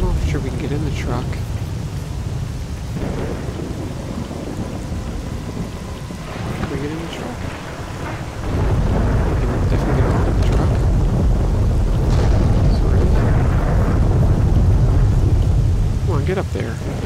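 Steady heavy rain pours through a thunderstorm in STALKER: Call of Pripyat, with deep rolling thunder swelling louder in the second half, while people talk intermittently over the downpour.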